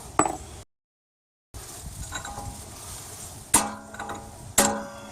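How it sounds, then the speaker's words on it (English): Two sharp metallic hammer strikes on a chisel ring out a second apart, after an earlier tap, against a quiet background with a brief silent gap, during a front strut replacement on an Acura or Honda. "Then we take a hammer and a chisel."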